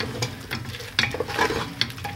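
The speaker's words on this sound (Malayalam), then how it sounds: "അതിനുശേഷം ഒന്നുകൂടി ജസ്റ്റ് ഒന്നുകൂടി ഒന്ന് നമുക്ക് മിക്സ് ചെയ്യാം." A tomato juice mixture is stirred in a pan over medium heat, with a steady soft sizzle and several short spoon scrapes against the pan, close and moderately loud, no talking.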